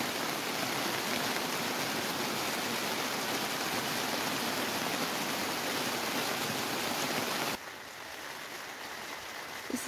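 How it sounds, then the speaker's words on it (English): Heavy rain pours outside in a constant broadband wash that then drops abruptly to a quieter, thinner patter near the end, with no one speaking. "I'm having a cup of tea and listening to the rain now."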